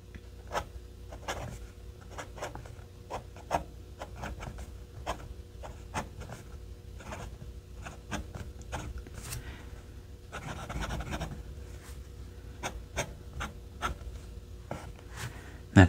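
Fountain pen nib, a wet writer, scratching across paper in short repeated strokes, close and quiet, with a brief denser rustle partway through.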